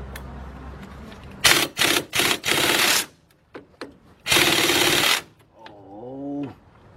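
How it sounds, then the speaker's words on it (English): Ratchet bursts from a wrench fitted with a wobble extension and a 13 mm socket loosening bolts: several loud, close clicking runs in quick succession, then a longer burst, followed by a brief whining tone near the end. "I'm gonna use my same wobble extension and put my 13 up here. And let's take those 2 bolts off."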